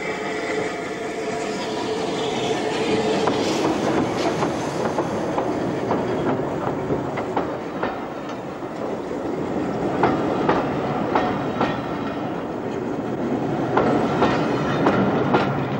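A Southern Railway Battle of Britain class Light Pacific steam locomotive runs along the line, with a steady roar, rhythmic clickety-clack of wheels over rail joints and sharp intermittent beats, heard fairly close and continuously without speech.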